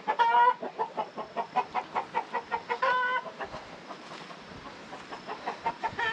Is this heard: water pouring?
no